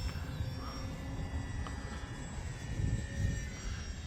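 A Flex Innovations QQ Yak 55 RC airplane flies in wind, its engine a steady continuous whine with a slight swell near the end, heard alone without talk.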